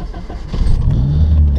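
A turbocharged Nissan 240SX S13 with a KA24DE-T engine revs against a hard rev limiter set at 3,000 rpm, a loud, close engine roar that swells and holds at a steady buzzing pitch.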